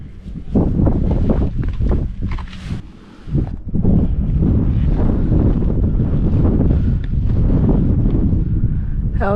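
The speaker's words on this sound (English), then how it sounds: "The wind's not as bad up here as I feared it would be" Wind gusts on the Crib Goch mountain ridge, buffeting the microphone with a loud, rumbling roar that dips into a brief lull before surging back.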